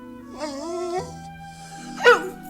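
A dog whimpering in an old television drama scene, a thin rising whine followed by a short yelp, close and moderately loud over a low steady hum.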